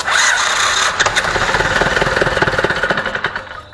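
An Ursus C-360 tractor engine cranks and catches on a first start attempt, loud and close, settling into a rapid, pulsing diesel chug with no talk over it.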